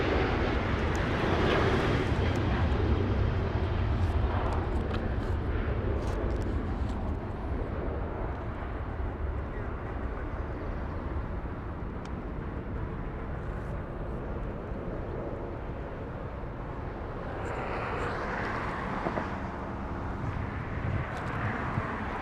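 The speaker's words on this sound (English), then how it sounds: "Southwest 159 flying to Salt Lake City." A Southwest airliner, flight 159 bound for Salt Lake City, roars at Los Angeles International Airport, a broad, steady jet rumble that stays loud and sustained with a slight swell near the end, no voices over it.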